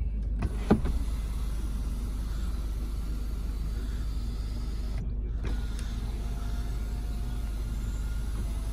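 Mechanical creaking and a soft motorized whir from the sliding and tilting panoramic roof of a 2016 Ford Kuga 2.0 TDCi Titanium X AWD, heard steadily inside the cabin with a couple of sharper clicks and no talking.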